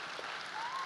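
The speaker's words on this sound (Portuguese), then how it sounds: "aplauda Jesus, aplauda Jesus" Brief applause from a church congregation, a short steady wash of clapping.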